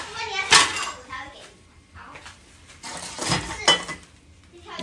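Plates and dishes clink and knock in a kitchen while stewed pears are being readied, a few sharp ceramic clatters separated by quieter pauses, with faint voices in the background.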